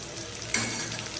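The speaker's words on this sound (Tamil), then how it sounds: "இப்போ இஞ்சி பூண்டு பேஸ்ட் சேர்த்துக்கலாம்." Ginger garlic paste hitting hot oil with sautéed onions for a mutton gravy, a steady close sizzle with a brief sharp crackle burst midway, no voices.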